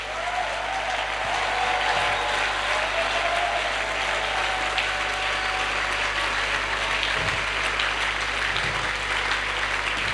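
Sustained applause fills a church as the congregation claps steadily for about ten seconds, a dense even wash of hands with no voices rising above it.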